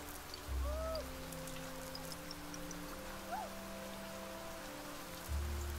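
Steady rain patters down in the video game Niche, a soft continuous wash of drops on the ground, with brief low thumps and a few faint game chimes over it and no talking.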